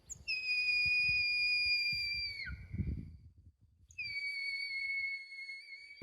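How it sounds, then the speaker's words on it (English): A shepherd's whistle blown as a signal: two long, loud two-toned blasts with a short pause between them, each holding a steady high pitch that slides down at the end, over faint outdoor rustling. "and then the shepherd's whistle."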